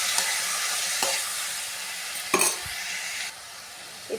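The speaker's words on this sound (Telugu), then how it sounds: "టమాటా వేసి మంచిగా మిక్స్ చేసుకోవాలి." Tomatoes being stirred into a sizzling small-fish curry base in a pan, a moderate frying hiss broken by a few scraping stirs and a louder clatter midway, no voices.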